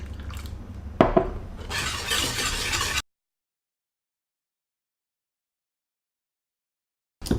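A whisk or spoon clinks and scrapes in a pot while egg, sugar and orange juice are mixed for orange custard, with a sharper knock near the start; about three seconds of close kitchen clatter, then silence.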